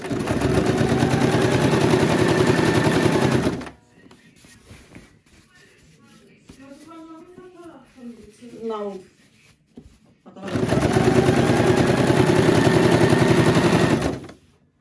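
A sewing machine stitching a pillow runs in two long, loud, fast rattling bursts, with a quieter stretch between where a person talks.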